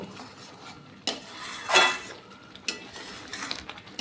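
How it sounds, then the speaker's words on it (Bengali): A Bengali mango sandesh mixture is stirred and cooked down in a wok, with metal scrapes and clinks against the pan over a faint sizzle and one louder scraping sweep partway through. "ভালো করে আমি কষিয়ে নেব মানে শুকিয়ে নেব যতক্ষণ পর্যন্ত জল না শুকোয়"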